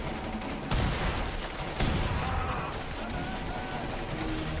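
A shotgun fires in The Saboteur video game with two loud, sharp blasts about a second apart, amid noisy combat and background din.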